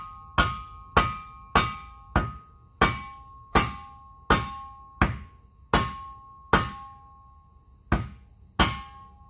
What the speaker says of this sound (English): You just kind of gently tap it on the ground.